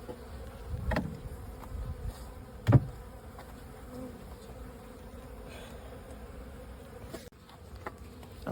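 Agitated honey bees swarm around an opened hive, a dense, continuous buzzing hum close by, punctuated by a couple of brief, sharp knocks from the hive.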